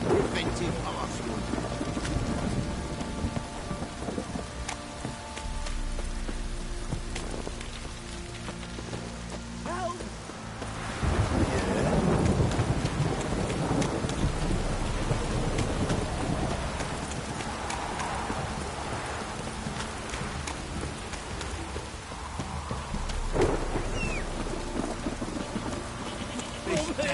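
Heavy downpour in The Witcher 3 video game, a continuous wash of rain with low rumbles of thunder swelling at times, heard alongside game ambience without clear speech.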